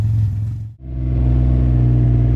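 Can-Am Ryker three-wheeler engine revving steadily and loudly up close during a ride, a deep continuous rumble that briefly drops out before picking back up.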